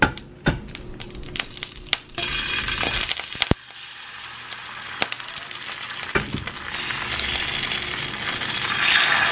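Food frying in a pan while cooking carbonara, with clinks and knocks of utensils at first, then a steady hissing sizzle that swells louder toward the end, no speech.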